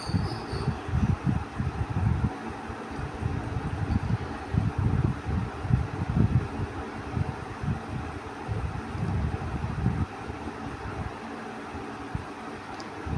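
A sewing machine stitches fabric for a newborn baby shirt, giving a close, rapid mechanical clatter that runs steadily for about ten seconds before easing to a quieter hum at the end.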